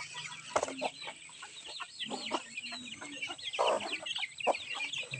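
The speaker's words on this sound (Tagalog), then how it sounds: "Yung ating mga manok, may isa pa." Several backyard chickens cluck and chatter in short, repeated bursts at close range, overlapping one another with a sharp knock near the start and no talking.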